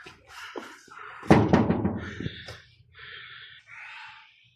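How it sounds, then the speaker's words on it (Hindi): Knocks land on a friend's room door in Saudi Arabia: a cluster of sharp, close raps in quick succession, with hissy rustling before and after and no speech. "दोस्त के रूम का दरवाज़ा पे खटखटाता है।"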